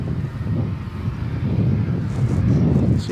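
An Iberia Airbus A330 departs for Madrid at night from Dallas Fort Worth Airport, its engine rumble low and steady at moderate distance, with some wind buffeting the microphone and no voices.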